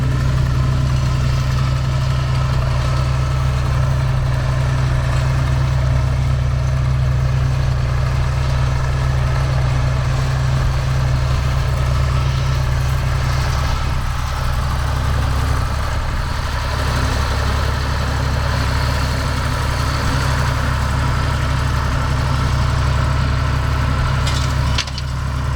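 A tractor engine runs steadily and loudly for the whole stretch, a constant low chugging drone with no voices.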